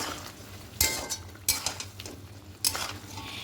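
Chicken being stirred with green chillies and pepper powder in a pan, a spoon scraping and clinking against the metal in a few sharp strokes over a low sizzle.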